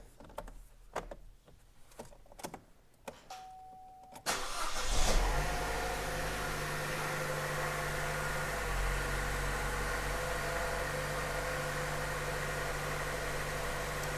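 A few clicks and quiet handling, then a Chevy Cruze 1.4 turbo engine, just rebuilt with new piston rings, cranks and catches, settling into a steady, loud idle that runs on.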